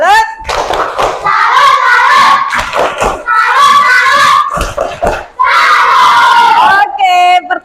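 A classroom of children does a rhythmic salute clap, bursts of patterned clapping mixed with shouting and excited voices, loud and close, with chanting children's voices over the claps.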